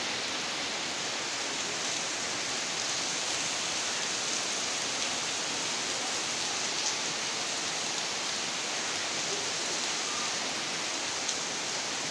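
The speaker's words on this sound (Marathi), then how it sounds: "जोराचा पाऊस परत एकदा सुरू झालेला आहे" Heavy rain pours down in a steady, dense roar, a constant broadband wash of water with no voices, unbroken throughout.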